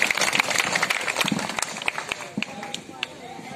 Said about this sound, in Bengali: সবাই একটু হাততালি দিব